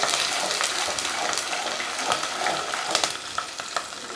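Paste fries in oil for a prawn fry, a close sizzle with irregular spoon scrapes and taps as it is stirred, fairly loud and without speech.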